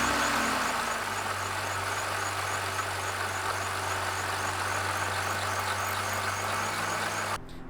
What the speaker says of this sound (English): we're gonna start the car right now